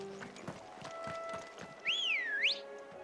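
Chocobo ridden in the game Final Fantasy 16: quick, rhythmic footfalls patter steadily over a low hum, with a bright rising-and-falling whistle-like cry near the end.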